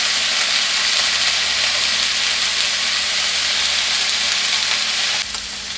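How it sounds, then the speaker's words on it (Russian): Chunks of meat and onions sizzling loudly in a pan on a home stove, a dense, continuous hiss with faint stirring, close and steady throughout before easing slightly at the end. "Итак, помешиваем и хорошо жарим."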